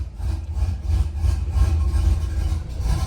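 Car engine idling after a camshaft swap with no tune, a steady close low rumble with an uneven, loping pulse running throughout.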